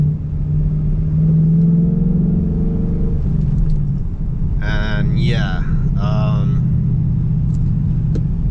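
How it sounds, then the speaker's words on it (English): Deep, steady engine and exhaust rumble from a 2022 Roush Mustang with a six-speed manual, heard from inside the car, droning continuously at close range while someone talks briefly over it. "I thought I had a mode to silence the exhaust. I don't, so it's barely legal."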